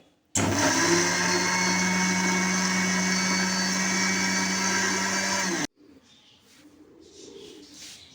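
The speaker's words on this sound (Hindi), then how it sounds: "अब मैं इसको ब्लेंड कर लेती हूँ ताकि इसका बहुत ही अच्छा और गाढ़ा सा पेस्ट बन जाए" Electric blender grinding mint leaves with water into a thick paste, a loud steady whirring roar that starts abruptly, runs for about five seconds and cuts off, leaving faint background sounds afterward.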